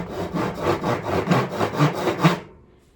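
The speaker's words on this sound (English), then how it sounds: "the trick with the tenon saw is to keep it square all the way" A tenon saw cuts wood for a guitar neck tenon in about eight steady, rhythmic strokes, close and loud, then stops abruptly.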